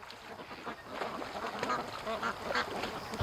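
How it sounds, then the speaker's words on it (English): A flock of ducks quacks busily beside a lake near a creek, overlapping calls coming close and fairly loud with no pauses, some goose-like honks blended in. "Alright, Doug, let's leave the ducks alone"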